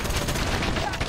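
Minigun fire in the video game Contra X rattles in a dense, rapid stream of shots, loud and unbroken for about a second.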